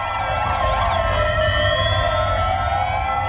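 Emergency vehicle sirens wail continuously outside a hotel in Tbilisi, several overlapping tones rising and falling, loud and steady over a low rumble of traffic.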